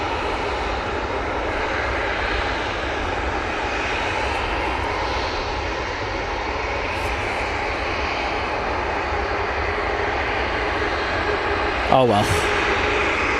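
A KLM airliner's engines roar steadily and loudly at Manchester Airport, a continuous broad rumble throughout, with a brief spoken remark and a short sharp burst near the end.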